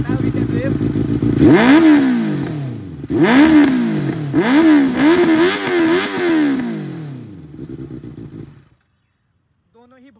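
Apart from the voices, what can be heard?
Benelli 600i inline-four motorcycle engine idling and revving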